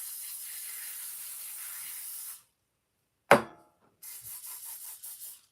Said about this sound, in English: So spray it with cooking spray